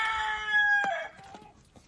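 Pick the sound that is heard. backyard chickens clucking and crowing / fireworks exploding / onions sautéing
backyard chickens clucking and crowing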